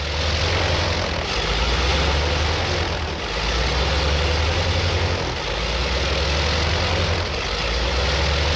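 A propeller aircraft engine runs steadily at close range as the lead warplane, wings unfolded and locked, waits to take off during the Pacific war at Iwo Jima; a loud continuous drone with deep rumble and a brief dip midway.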